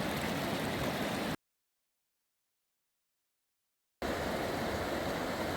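A creek flows steadily on the Oregon coast, its broadband rushing water close and continuous, broken by a few seconds of total silence before the flow resumes.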